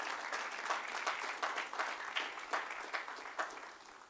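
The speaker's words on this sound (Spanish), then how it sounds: "Dele un aplauso fuerte al Señor." Congregation applauding in a church during a Sunday sermon, steady rhythmic group clapping in regular pulses, moderately distant and fairly soft, with no talk over it.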